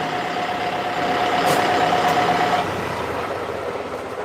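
Truck or tractor engine running steadily and close while a high reversing beep tone repeats for a couple of seconds, on a homestead.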